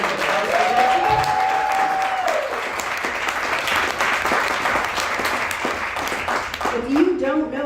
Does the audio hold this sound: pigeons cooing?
no